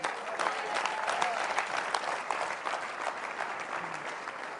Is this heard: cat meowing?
no